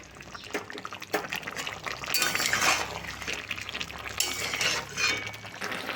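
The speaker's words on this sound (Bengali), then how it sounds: "নাড়াচাড়া করে নেব" Stirring a spiced jackfruit curry cooked with mutton fat in a pan: soft scraping and clinking of a utensil against metal, with faint sizzling throughout, no talking.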